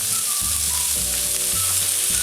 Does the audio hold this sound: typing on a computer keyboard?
no